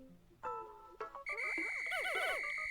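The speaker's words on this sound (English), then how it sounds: "Now I'll use B to call them back to me with my whistle." A whistle from the video game Pikmin 4, used to call the Pikmin back: a short electronic whistle blast that swells into a sustained warbling tone, fairly clear with no talking.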